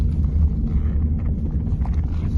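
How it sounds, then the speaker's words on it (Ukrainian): A Renault Scenic II drives over smooth asphalt, giving a steady low cabin rumble and road drone with no voices. "От їжу зараз по хорошому асфальту, я її пускаю."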